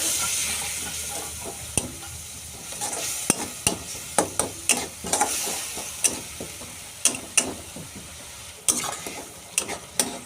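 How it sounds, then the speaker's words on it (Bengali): Masala of spices and Kashmiri chilli powder with a little water being stirred and fried in a pan, a steady sizzle broken by repeated sharp scrapes and clicks of the spoon against the pan, no talking. "মশলাটাকে আমি খুব ভালোভাবে কষিয়ে নিয়েছি"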